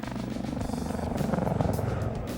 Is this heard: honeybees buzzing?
no